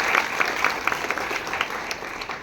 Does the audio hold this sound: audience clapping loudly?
yes